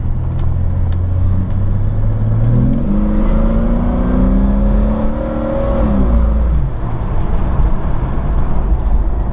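A lifted vehicle with performance upgrades drives past with a steady engine hum that rises in pitch as it accelerates, then eases back, loud and continuous with no talk.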